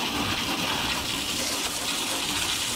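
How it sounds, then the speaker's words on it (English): Clean water sprays into a jet ski engine compartment, producing a steady, close, hissing gush that runs on unbroken with no one speaking. "all this is getting sprayed with clean water"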